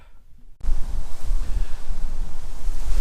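Gusting outdoor wind buffets the microphone, a loud steady roar that begins abruptly after a quiet moment and continues without pause, with low rumbling bursts rising and falling.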